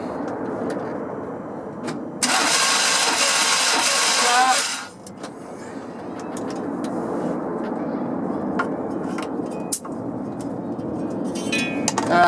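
A 1998 Chevy 1500 Cheyenne pickup engine cranks with a loud, harsh burst for about two seconds, then settles into a steady idle rumble that continues to the end, with a few faint clicks.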